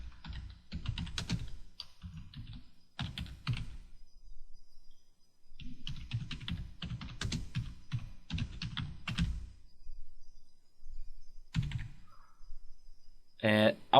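Names being typed into a Word document on a computer keyboard, bursts of quick close clicking keystrokes with short pauses between entries, alone with no talking.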